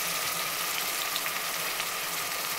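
Spice paste hits frying onions in a pan, giving a dense, even sizzling hiss that holds steady and fairly soft throughout the short stretch.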